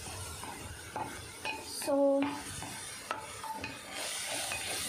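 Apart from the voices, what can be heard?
stirring pizza paste in a pan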